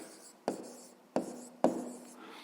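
Pen marks written on paper while noting the answer to a fifth-grade math exercise: three short, crisp scratchy strokes spaced about half a second apart, close and quiet, with no talking.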